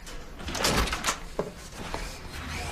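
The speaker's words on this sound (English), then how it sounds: "Get in here and close the door." A door swings shut indoors with a soft thud and a few faint knocks and clicks that follow, heard close and moderately quiet over a low room hum.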